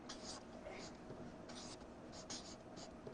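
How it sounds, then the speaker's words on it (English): A pen or marker scratches out a single word in several quick strokes on a classroom board or paper, faint and close, over a soft murmuring background. "let me write that down"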